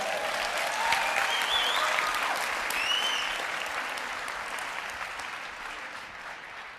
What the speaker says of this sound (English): Give Albert a big round of applause, will you?